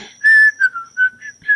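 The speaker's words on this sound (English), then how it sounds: "I'll whistle while you do it." A person whistles a short, wavering tune alone, close and clear, in a few brief rising and falling phrases.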